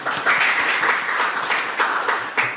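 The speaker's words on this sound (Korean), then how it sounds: "다시 한번 박성준 변호사님께 큰 박수 부탁드립니다" Audience at a Korean policy forum on power grid issues gives a lawyer a round of applause, a dense, even clatter of many hands clapping throughout the short stretch, no voices over it.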